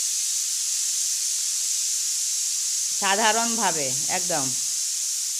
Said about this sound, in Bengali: মাছ ভাজা হয়ে গেছে, তারপরে ফুলকপি ভেজে নিচ্ছি